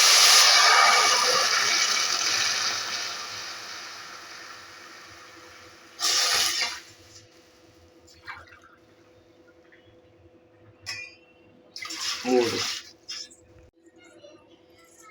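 Water is poured from a glass into an AMC cookware pot while cooking ravva pulihora, a steady close splashing pour lasting several seconds that fades out, followed by a few short, isolated knocks and clatters.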